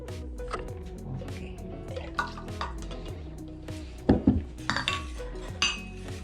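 Melted butter poured into a cassava cake batter in a bowl, with close clinks and scrapes of a utensil against the dish and a few soft liquid drips, brief and moderately loud, no voices.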